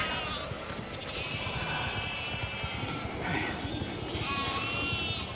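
Sheep in the video game The Alters bleat repeatedly over a dense crackling, trampling background, several overlapping calls rising and falling at moderate distance while a voice talks faintly.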